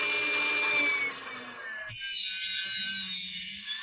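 A handheld rotary tool polishes an acrylic (plexiglass) watch crystal, giving a steady high whine that drops and fades after about two seconds into a quieter, softer buzz, close up with no talking.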